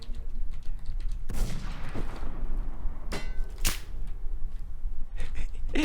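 Gunfire in a shooting video game: several sharp, loud shot bursts, spaced irregularly, then a quick double crack, over a steady noisy background.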